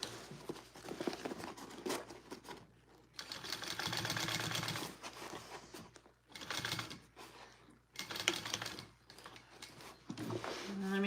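A home sewing machine stitches a seam in several bursts of rapid mechanical chatter, each lasting one to three seconds, separated by short pauses.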